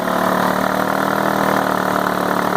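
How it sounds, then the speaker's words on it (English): A 2005 Ford Freestyle with a 3.0 liter engine and CVT all-wheel-drive transmission idling in park, with a steady loud droning hum and tonal whine that holds constant throughout, close up and without talk. "it's making this horrendous noise"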